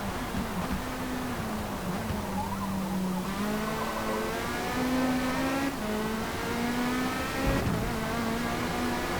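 A Lamborghini LMDh prototype race car in Forza Motorsport screams under sustained acceleration, its high engine note climbing steadily through the gears with brief shift dips, loud and close with no talking.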